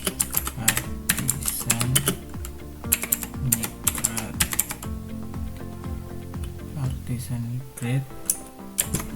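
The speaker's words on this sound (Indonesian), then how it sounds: "Terus di sini kita ketikkan php" A command is typed on a computer keyboard in a series of quick, close clicking bursts with short pauses between them, while someone talks over the keystrokes.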